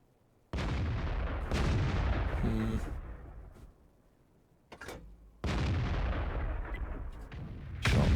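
Artillery firing in the tank game World of Tanks: two heavy, booming cannon shots, each with a long rumbling decay, separated by a quieter stretch with a short sharp crack.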